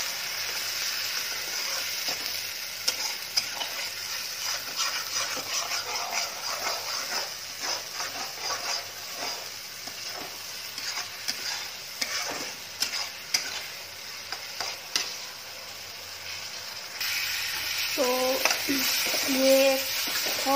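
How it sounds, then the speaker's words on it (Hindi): A spice masala for paneer curry fries in a pan with a steady hiss and frequent spatula scrapes and stirring knocks. A different, brief tonal sound cuts in near the end. "तो अब मसाले को फ्राई करेंगे।"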